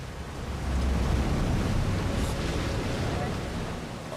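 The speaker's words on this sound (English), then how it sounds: "Here, they're exposed to waves sweeping in from the Atlantic." Atlantic waves surging around the Viking ship replica Sea Stallion on the open sea, a rushing wash of water and wind that swells after the first half-second and holds steady, with muffled buffeting.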